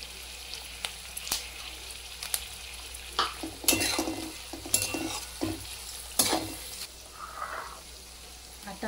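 Onion and green chillies fry in a pan for a Mumbai street-style jini dosa, with soft sizzling under scattered scrapes and clinks of a spatula stirring against the metal pan, fairly quiet and with no voice.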